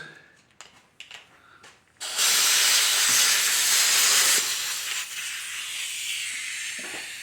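An air hose blows out a motorcycle carburetor in a loud, close, steady hiss of compressed air lasting several seconds and then tapering slightly, after a few light clicks and taps.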